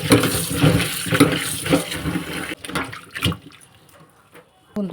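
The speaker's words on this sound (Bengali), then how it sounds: "এখন আবার ঠান্ডা জলে আরেকবার ধুয়ে দিলাম।" Tangra fish being rinsed in cold water, with splashing and sloshing of water and fish in a bowl in a dense, close burst for a couple of seconds, then a few fainter scattered splashes.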